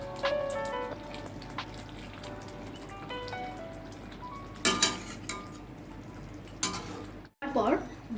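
Pieces of katla fish sizzle in hot spiced oil in a pan, a continuous crackling fry with sharper spits and pops, accompanied by occasional clinks of a utensil against the pan.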